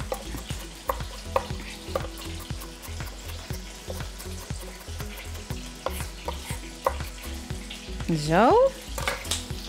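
Slavinken, Dutch bacon-wrapped minced meat rolls, fry in a pan with a steady close sizzle and crackle, with occasional utensil knocks and a brief spoken word near the start.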